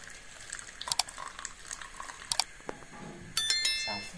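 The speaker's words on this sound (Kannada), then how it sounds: "ಬಿಸಿ ನೀರು ಅಂದರೆ ಕುದಿಯುವ ನೀರು ಹಾಕಿ" Boiling water is poured over homemade food for a Shih Tzu puppy, a brief splashing pour arriving near the end after a few quiet clinks and kitchen handling sounds, close and fairly soft.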